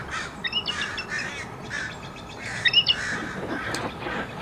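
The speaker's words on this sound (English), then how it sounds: "You can hear another eagle, by the way, off in the distance." Distant eagle calls ring out in short bursts, a few shrill cries rising over a steady outdoor hush.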